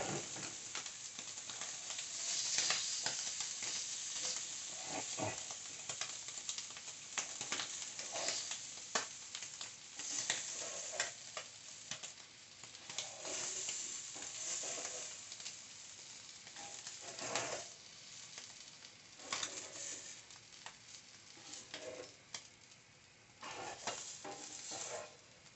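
Calamari and paella ingredients sautéing in a pan, a steady soft sizzle with occasional stirring scrapes and clinks continuing alone throughout, fairly quiet and close.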